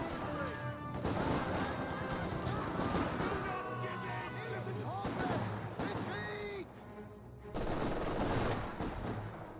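MG42 machine gun fire in the World War II strategy game Company of Heroes 2, with rapid bursts and scattered gunshots rattling through a noisy battle soundscape, broken by brief lulls, while a voice commentates.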